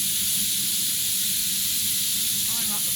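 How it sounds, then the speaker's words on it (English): Steam hisses steadily and loudly from a waste-oil-fired rocket stove boiler running at about 40 PSI, a constant close broadband rush that never lets up. "Looks like pretty clean steam."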